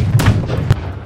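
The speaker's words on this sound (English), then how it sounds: "Load the cannon!" Ship cannons firing in a pirate ship video game, two or three loud booming blasts in quick succession with a low rumbling tail, heard close and loud.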